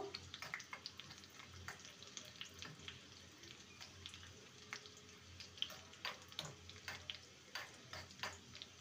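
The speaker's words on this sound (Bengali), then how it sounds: "আর একটা গোটা শুকনো লঙ্কা। এটাকে ভেজে নেব।" Whole dry red chili frying in a pan of oil, giving a soft steady sizzle with scattered light crackles and pops, fairly faint and close, with no talk.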